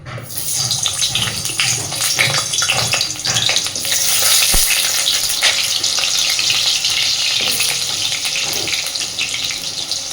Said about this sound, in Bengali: আর এইবার কেটে ধুয়ে রাখা আলু আর ফুলকপিগুলো সুন্দর করে ভেজে নেব।